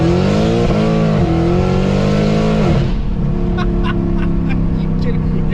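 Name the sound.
Mercedes W204 C63 AMG with LT headers and straight pipes, exhaust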